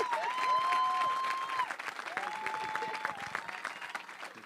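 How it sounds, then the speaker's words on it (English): Audience applause after a panel discussion event, a steady broadband clapping wash filling the clip, with a sustained whistle-like tone rising over it and fading slightly toward the end. "give him a big round of applause,"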